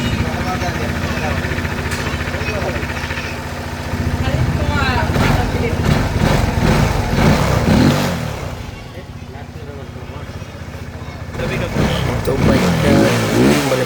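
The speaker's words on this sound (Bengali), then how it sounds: "এখন আমরা বাইকটা স্টার্ট দিব" A Suzuki GSX 150 motorcycle with an RPM problem, engine running in a service workshop, with a steady idle that rises into revving swells and then settles, heard close under someone talking.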